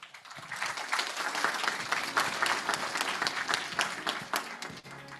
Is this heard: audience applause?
yes